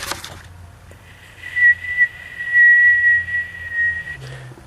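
A thin, steady hiss-like whistle from coolant squirting out of a leaking hose on a Tracker vehicle, rising and falling in strength over a few seconds with a low background hum and no talk.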